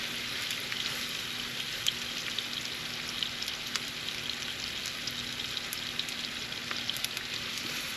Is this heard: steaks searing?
yes